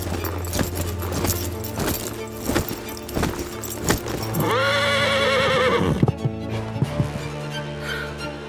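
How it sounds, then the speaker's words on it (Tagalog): A horse gallops with clip-clop hoofbeats in a horror film battle scene, then lets out a loud, drawn-out neigh midway before the galloping hooves resume, with no talk. "Sakay ng kabayo, tumakbo siya para magpahabol."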